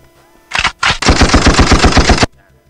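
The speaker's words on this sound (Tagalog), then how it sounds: "Tapos, may mga sound effects ito ng baril." Gunshot sound effect from a V8 sound card: one short shot, then a loud, rapid machine-gun-style burst of evenly spaced shots lasting over a second, heard clearly with no talk.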